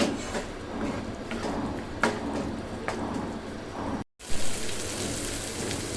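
A spice paste for egg korma fries in oil with a dense, even crackling sizzle, broken by a few stirring knocks and a brief dropout before the frying noise returns.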